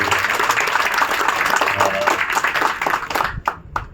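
An audience in a soundproofed auditorium claps loudly and steadily, then the applause thins out to a few last claps, with some voices mixed in.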